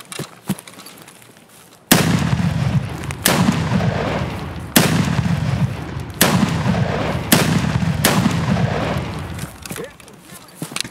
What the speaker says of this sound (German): Er schießt auf dich, oder?